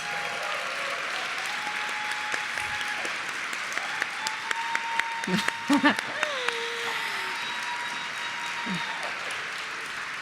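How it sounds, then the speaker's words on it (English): An audience at a Hall of Fame induction ceremony applauds in a steady, sustained wash of clapping, with faint tones and brief sounds scattered through it. "Let us give them a round of applause."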